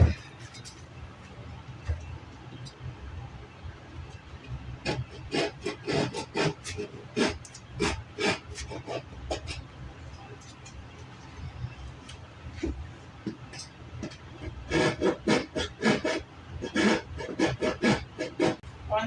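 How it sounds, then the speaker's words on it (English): A handsaw cuts out wooden dowels in a barn wall opening with uneven bursts of raspy back-and-forth strokes, close and fairly loud, in several runs with short pauses between them. "get these dowels cut out of here so we can get that window fit in there"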